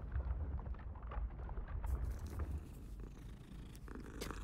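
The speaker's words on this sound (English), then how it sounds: "Just petting a kitten." A kitten purring in the Hogwarts Legacy video game, a steady low rumbling purr that runs continuously throughout, close and fairly loud, with faint game ambience over it.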